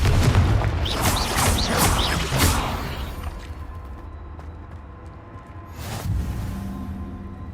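A Confringo fire spell blasts in Hogwarts Legacy, several loud whooshing booms bursting in quick succession up front, then a quieter stretch and one more blast near the end.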